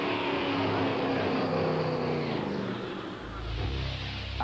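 A drag racing car roars in a steady loud engine drone that drops to a deeper, heavier rumble near the end, with no voices over it.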